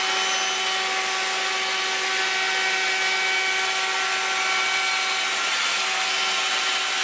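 A handheld router with a radius bit runs along the edge of a timber board, giving a steady, loud, high-pitched whine with constant tonal hum throughout and no talk.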